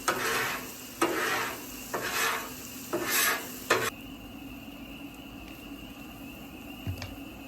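A metal scraper rasps repeatedly across a Blackstone griddle's seasoned surface, four or five loud, close strokes in quick succession, followed by quieter sizzling and faint clinks.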